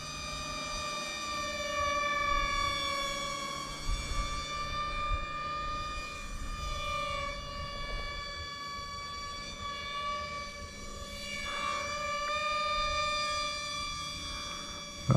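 A Sky Viper RC airplane's motor whines with a steady, harmonic-rich drone that swells and fades slightly as it flies overhead outdoors.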